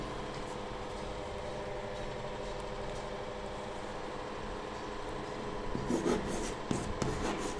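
Chalk scraping across a classroom board in short strokes near the end, a few faint scratchy bursts over steady room hum during a Hindi grammar lesson.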